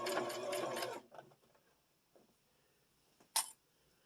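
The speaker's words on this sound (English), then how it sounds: "Now you continue to sew up until you get close to where the middle is." A sewing machine stitches fabric for a simple craft project in one steady, loud burst of about a second, then stops, leaving quiet handling noises and a brief sharp click near the end.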